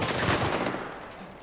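Rapid gunfire in the video game Uncharted 4 crackles in dense bursts of overlapping shots, loud at first and thinning into a softer, scattered tail.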